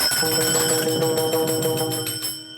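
Taal hand cymbals ringing in a devotional song, with bright overlapping metallic chimes sustained loudly and then fading out at the end.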